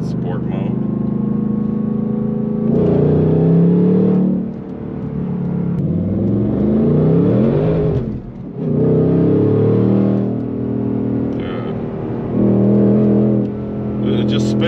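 A Whipple-supercharged 2024 Ford Mustang Dark Horse in sport mode revs hard with rev-matched blips, its engine note rising and falling repeatedly in loud, close bursts with deep rumbling between them.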